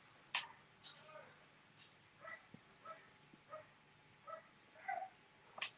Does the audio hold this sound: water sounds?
no